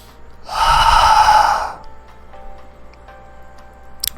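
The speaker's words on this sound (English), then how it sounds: "let me take a breath" A single deep, loud breath is drawn in close to the microphone and lasts about a second, followed by quiet room sound with a few faint ticks.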